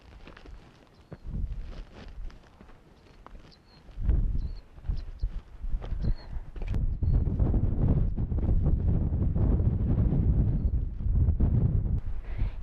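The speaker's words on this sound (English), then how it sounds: "it's awful windy up here" Gusty wind buffets the microphone in loud, rumbling bursts that grow stronger and more constant toward the end.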